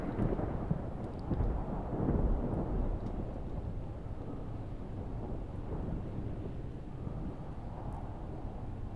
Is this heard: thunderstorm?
yes